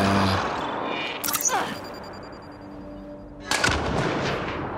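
Gunfire in the video game Mass Effect Andromeda: two sharp weapon shots spaced a couple of seconds apart over steady game ambience, with players talking in between.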